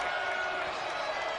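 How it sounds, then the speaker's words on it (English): Crowd at a college basketball game in an arena, Saint Louis versus Hofstra, heard as a dense, sustained roar of cheering and applause filling the space, with no gaps. "The energy, the excitement, the crowd on their feet."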